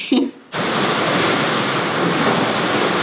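Heavy rain pours down in a steady, dense broadband wash that starts abruptly after a brief moment and continues loud and unbroken to the end.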